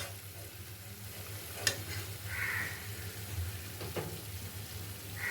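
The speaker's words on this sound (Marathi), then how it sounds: "आपली मठरी तळून झालेली आहे आपण तिला आता काढूया" Mathri frying in hot oil gives a steady, soft sizzle with a few faint clicks and stirring sounds, and no talk.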